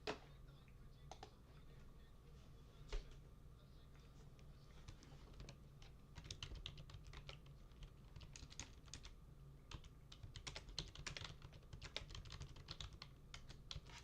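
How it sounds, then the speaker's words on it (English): Typing on a computer keyboard during a live mixed martial arts play-by-play stream: a fairly quiet, steady run of fast key clicks with bursts of rapid keystrokes, close to the microphone and with no talk over it. "let me mute while I'm typing this."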